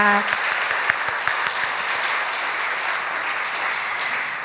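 Congregation applauding together during a Korean church worship service, a dense steady wash of clapping that fills the whole stretch at even loudness.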